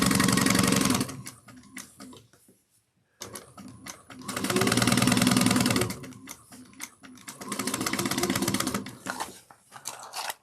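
A sewing machine back stitches a seam in three bursts of fast rattling stitching, the first short, then a pause, then two longer runs, loud and close with no voices.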